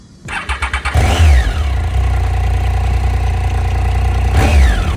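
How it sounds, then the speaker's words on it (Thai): A Triumph Tiger 800 XCX three-cylinder motorcycle engine is cranked briefly, then catches and settles into a loud, close, steady idle, with a quick blip of the throttle near the end. "เป็นรถผู้ดี 3 สูบ เสียงก็จะนุ่มๆหน่อย"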